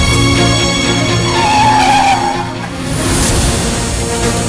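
A car brakes to a sudden stop with a loud tire squeal and skid over a steady engine rumble, then eases to a lower idle.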